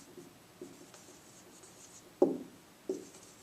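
Faint pen strokes write a date by hand, with a few soft scratches and two brief, sharper marks on paper in a quiet room.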